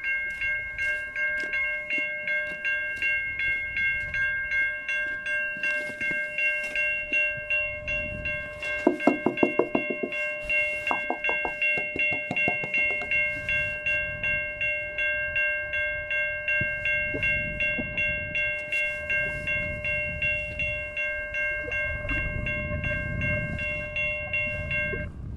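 A malfunctioning railroad crossing signal on Portage Road rings its bells in a rapid, steady repeating clang, with sustained tonal ringing and a low rumble, and no voices.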